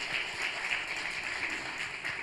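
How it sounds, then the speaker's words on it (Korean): A church revival meeting congregation claps together in an even, steady wash of applause, heard at moderate distance without speech. "우리 박수로 격려하십시다"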